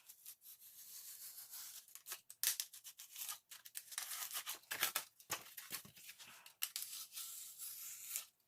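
A blade slices through foam for a jon boat floor in a series of close, scratchy cutting strokes and tearing rasps, irregular and fairly quiet with brief pauses between passes.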